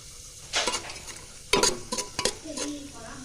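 Raisins fry in hot oil for pulao, a sizzling background broken by several sharp scraping and clinking stirs of a utensil against the pan, close and bursty, with no talking.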